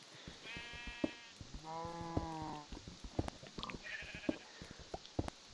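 Several Minecraft sheep bleats, loud and wavering, one after another amid scattered clicks and taps in a crowded animal farm; a fainter higher bleat follows later.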